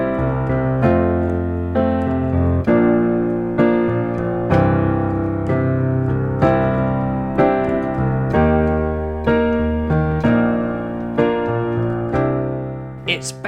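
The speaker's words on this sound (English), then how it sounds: "So the chord progression that I'm going to teach you today sounds like this." A major-key 1-4-7-3 chord progression of sustained chords played on a keyboard instrument, changing roughly every second in a steady, bright progression with no voices.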